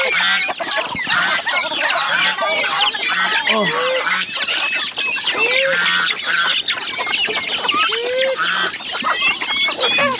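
A dense flock of chickens clucking and squawking continuously on a farm, with a few lower honking turkey calls mixed in, loud and busy throughout.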